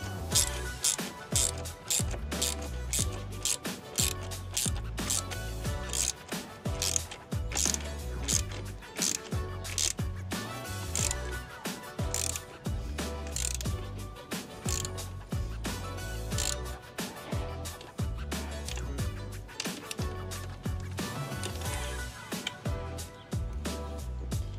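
Fasteners on a zero gravity windscreen for a 2024 Kawasaki ZX6R being tightened, giving a dense, continuous run of close ratcheting clicks and mechanical rattles that carries on without pause and without talk.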